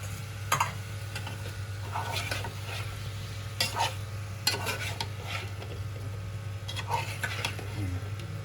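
Mustard masala with garlic being sautéed in a pan for a seafood dish, a steady sizzle under intermittent metallic spatula scrapes and clatters, with a low hum and brief voices nearby.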